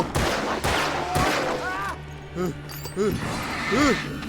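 Gunfire in the video game Alan Wake, sharp repeated shots ringing out in quick bursts at close range, under excited shouting voices and a game soundtrack.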